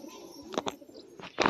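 Soft pigeon coos in short bursts near the microphone, a few brief calls against a quiet background.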